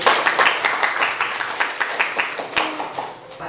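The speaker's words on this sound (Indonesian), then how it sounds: "Tepuk tangan untuk diri." Dense, lively hand clapping from a group of students in a classroom, steady and fairly close for a few seconds, with scattered voices mixed in.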